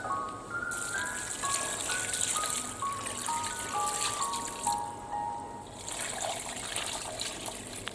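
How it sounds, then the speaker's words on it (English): Coconut milk pours into a cooking pot for Grenada's oil down, a continuous close liquid gush and trickle with a rising pitch as it fills, no talk. "I'm now in the process of adding my coconut milk"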